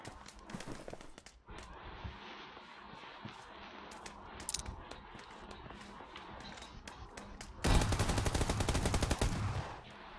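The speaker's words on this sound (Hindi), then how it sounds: "शॉटगन है, शॉटगन।" Shotgun fire sounds in PUBG Lite on PC. A few scattered sharp shots and movement noises come first, then a loud, rapid volley of blasts dominates near the end against an otherwise quiet background.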